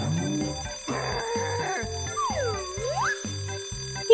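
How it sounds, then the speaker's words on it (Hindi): In an animated Christmas cartoon, an alarm clock rings in regular repeated bursts at a steady rhythm, and a swooping whistle-like tone sweeps through the middle of the ringing. "वहाँ कौन है? Alarm clock,"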